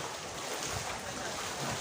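Floodwater flows through a Barangay 28 neighborhood during Typhoon Carina, a steady rushing wash mixed with wind buffeting the microphone, continuous and fairly loud.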